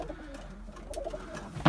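Grey smoky tumbler pigeon cooing in a coop, a few soft close coos with faint background noise and a brief louder sound near the end.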